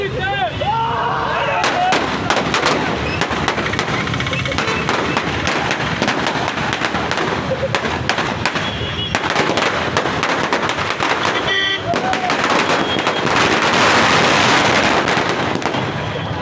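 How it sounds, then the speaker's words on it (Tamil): A string of firecrackers set off in a fan's hand during a celebration of an Ajith film release in Tamil Nadu: loud, dense, continuous crackling bursts that rattle on without pause, close by and intense throughout. "சேட்டைக்கார ரசிகர் ஒருவர் கையில் சரவெடியை வெடிக்க வைத்து"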